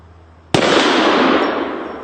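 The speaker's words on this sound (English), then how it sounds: "I'll shoot the hanging propane, or the hanging tank over there" A single sharp, loud Desert Eagle pistol shot cracks out, aimed at a hanging propane tank outdoors, and its blast rings out and decays slowly over the next second and a half.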